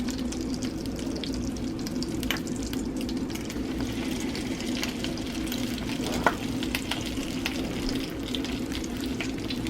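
French toast sizzles steadily in a pan, a continuous close frying hiss with faint crackles and an occasional soft pop, heard alone without voices.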